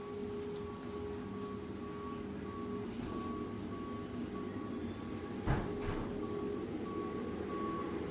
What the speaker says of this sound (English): Oh, it's just the garbage truck.